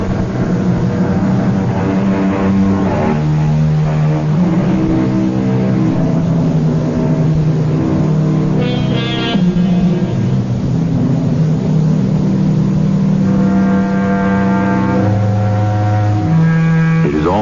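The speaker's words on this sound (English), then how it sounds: "Off in the distance, we hear the keening of a finely tuned sports car. It grows louder as the car approaches." A finely tuned sports car on a deserted highway at night, staged for radio drama, gives a sustained, loud engine drone that shifts pitch as it revs and gears change, rising to a higher whine near the end.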